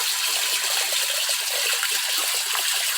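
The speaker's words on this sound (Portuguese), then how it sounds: "Joga ali na água os tenébrios" Mealworms from a 300-gram cream tub tossed into a fish tank, a steady splashy rush of water that runs continuously and fairly loud with no pauses or talk.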